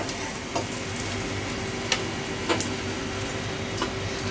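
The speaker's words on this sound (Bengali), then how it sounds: "হালকা পেঁয়াজ ভাজা হয়ে গেলে আমি এর ভিতরে ক্যাপসিকাম দিয়ে দেব।" Onions frying in a pan for a Thai vegetable shrimp soup make a continuous bright sizzle, broken by scattered sharp clicks and taps from a utensil or from capsicum being dropped in.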